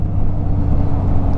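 Heavy Saturday road traffic of many cars and trucks in Mexico, Pampanga makes a loud, continuous low rumble close by.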